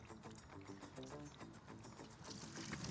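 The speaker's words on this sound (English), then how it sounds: "Now it's coolant draining time." Engine coolant drains out of a BMW K100 motorcycle, a quiet, continuous pouring and trickling of liquid with faint gurgling, heard close but soft.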